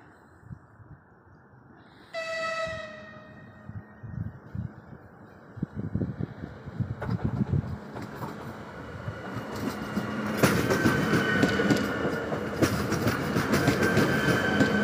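Passenger train on the Martin–Čadca route pulling into a station, opening with a tonal horn or chime, then growing wheel clatter and rail noise that builds steadily louder as it approaches, with no talking.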